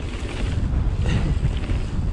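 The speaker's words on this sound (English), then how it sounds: "Oh, that wind." Wind blowing on a trail in South Wales buffets the microphone, a steady, loud rumbling roar with no pauses and no talk throughout.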